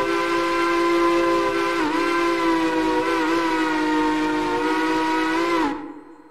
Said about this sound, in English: Nice sounding whistle there